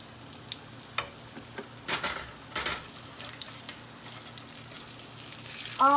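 Squash puppies fry in a pan of hot oil, a steady faint sizzle with sharper crackles and pops rising and falling over about six seconds, no talking.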